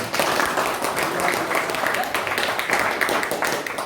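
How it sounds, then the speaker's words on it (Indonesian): Classroom applause for a student named Ruben during an arts lesson, a steady patter of many hands clapping at moderate volume, with talk mixed in. "Kasih dulu aplaus sama Ruben"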